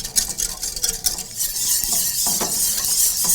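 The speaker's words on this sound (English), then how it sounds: "And the more we whisk it, the less grain will be inside." A whisk scrapes steadily around a pan of cooking roux, giving a close, brisk metallic swishing over a soft sizzle.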